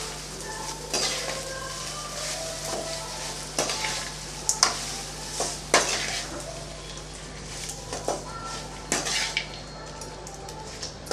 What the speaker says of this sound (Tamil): கொஞ்சம் கலந்து விட்டுறலாம்